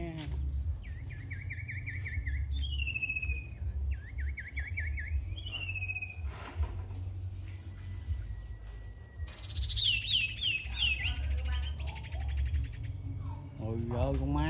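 A decoy bird calls during bird trapping outdoors, repeated bright chirping phrases and rising whistled trills over a steady low hum and background murmur, with a longer burst of rapid notes midway.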